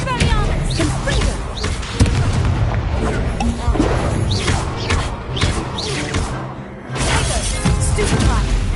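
Hogwarts Legacy combat: rapid spell casts with whooshes, booming explosions and heavy thumps in a dense, loud, continuous barrage, while a voice calls out spell names over the action.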